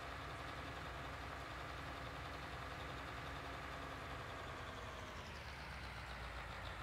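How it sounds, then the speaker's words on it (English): Constant, even engine drone of a tractor driving along a route in a farming video game, a broad rumble holding steady throughout with no talking. "it's telling us that the tractor's reached the shot"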